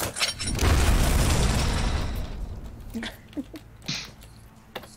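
An explosion in a video game booms loudly and rumbles for about two seconds before fading, followed by a few scattered small pops and clicks.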